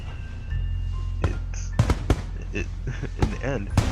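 Fireworks burst in the Katawa Shoujo visual novel, several sharp cracks and pops spaced irregularly over a steady low rumble, fairly close and loud.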